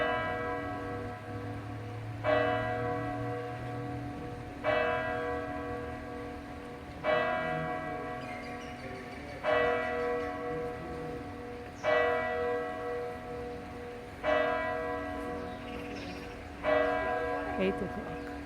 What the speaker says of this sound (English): And the bell is singing Ave,